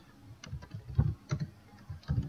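Someone types text into a Microsoft Excel header on a computer keyboard, giving a close, quiet run of irregular key clicks.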